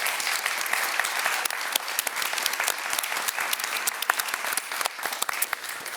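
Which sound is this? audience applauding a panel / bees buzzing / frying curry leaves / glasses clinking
audience applauding a panel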